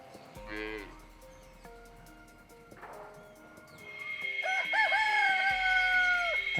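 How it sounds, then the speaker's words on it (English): Roosters crow in the early morning at rustic lodgings in El Rodeo, with a long, loud, close crow rising over the last couple of seconds after shorter calls and bird chatter earlier. "My least favorite part has been the roosters. They start pretty early in the morning and they don't give up."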